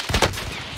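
A quick, loud burst of rapid gunfire in Call of Duty Warzone (Cold War era), a couple of close shots that tail off into a short echo.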